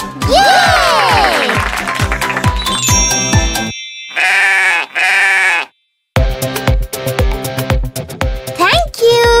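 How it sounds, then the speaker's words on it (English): Sheep bleating from a children's nursery-rhyme toy segment, two loud drawn-out bleats standing alone between stretches of cheerful music and a child-like voice, with harmonic stacks sustained about a second each. "The sheep goes baa!"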